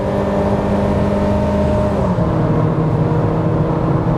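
Engine of a 2021 Chevrolet Spin Premier pulls hard under acceleration toward high revs, a steady loud drone with a gear change partway through and road noise throughout, no voices.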